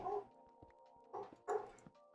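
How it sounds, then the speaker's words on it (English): Pet dogs bark, yip and whimper a short distance away in a few separate bursts over about two seconds, with a steady hum underneath. "Sorry if you guys can hear my dogs in the background."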